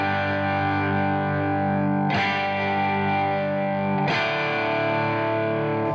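Electric guitar through the Arturia FX Collection 2 compressor, three sustained distorted chords ringing loud and dense one after another, each new strum snapping in sharply before holding at an even, squeezed level.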